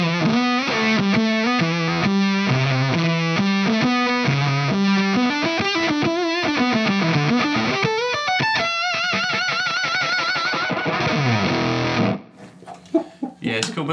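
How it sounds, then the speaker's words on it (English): Electric guitar played through a fuzz pedal set flat out, with the output pulled back for a heavily compressed, saturated tone: a run of sustained distorted chords and riffs ringing loudly for about twelve seconds before breaking into a few scattered, choppy notes. "we'll go right flat out with the fuzz"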